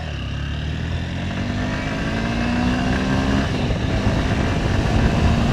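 A 2025 Honda SP 160 motorcycle accelerating on a test ride, its engine note climbing steadily in pitch and growing louder as it pulls through the revs, close and continuous with wind noise underneath.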